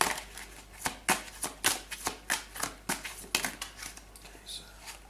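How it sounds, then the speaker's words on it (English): Tarot cards are shuffled by hand in a quick, even series of crisp riffling bursts, about a dozen close, quiet flutters in a row with no talking. "So I'm just going to shuffle the cards."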